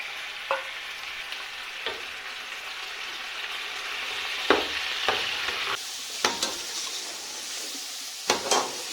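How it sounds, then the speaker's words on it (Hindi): Chicken frying in oil with garlic, ginger and onion for chicken pulao, a steady close sizzle punctuated by sharp stirring scrapes and clatters, with no one talking. "तो हमने अच्छे से ऑयल और लहसुन अदरक और प्याज में भून लिया है।"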